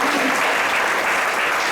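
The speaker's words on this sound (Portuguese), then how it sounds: "Palmas para Jesus." Congregation clapping in a Portuguese-language church service, a brief burst of loud, steady applause from many hands.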